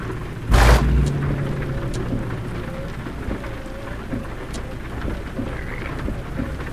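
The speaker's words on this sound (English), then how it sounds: "Rain again." Steady rain drums on the truck in American Truck Simulator during a Montana haul from Great Falls to Sidney, with a brief thunder-like boom near the start and constant patter throughout.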